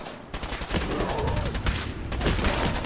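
Rapid automatic gunfire in Fallout 4's Far Harbor, a dense, loud fusillade of overlapping shots aimed at a large creature, continuing almost without pause through the whole stretch.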